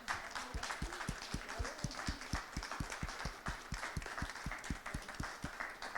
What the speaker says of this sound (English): Et applaudissons-les.